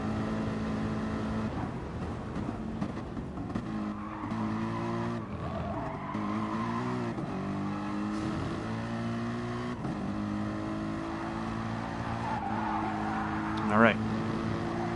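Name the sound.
race car driving down the straight in a racing video game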